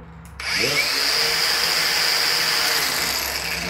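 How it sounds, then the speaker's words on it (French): A brushless cordless Arccaptain grinder spins up abruptly and keeps running at high speed, a loud steady whine that holds to the end. "entends la vitesse que ça va. Ce grinder-là"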